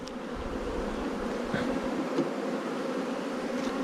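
Honey bees swarm over a hive frame lifted out during artificial swarming, giving a dense, continuous buzzing hum that stays close and steady throughout, with no voices.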